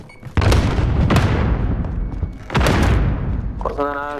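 A frag grenade goes off in a first-person shooter game with a heavy, close, booming blast. Further thumping booms follow over about four seconds amid game noise.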